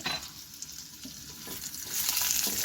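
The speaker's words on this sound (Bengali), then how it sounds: "কিছুক্ষণ একটু নাড়াচাড়া করে নিলাম আদা" Chopped ginger and garlic frying in hot oil while being stirred, a dense close sizzle with soft scraping of the spoon, growing louder and brighter toward the end.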